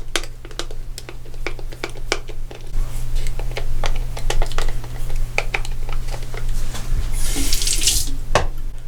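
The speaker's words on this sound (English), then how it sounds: "And a final rinse off with cold water." Cold tap water runs steadily into a sink for a final rinse after a straight-razor shave, a continuous close splashing stream with scattered clicks and taps over it and a brief louder hiss of spray near the end.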